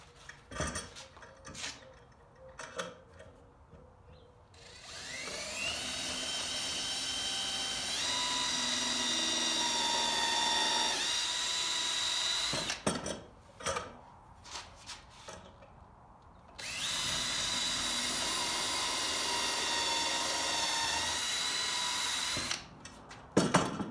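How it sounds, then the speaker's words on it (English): A power drill whirs in two sustained bursts with rising pitch, drilling pilot holes in wood, with brief clicks and handling noises between runs. "So I'll just drill 2 pilot holes with my drill and then throw those screws in."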